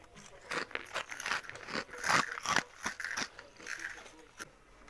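Sharp, irregular crunches of dry, crispy fried fryums snacks being bitten and chewed up close, with a few quiet voices around them.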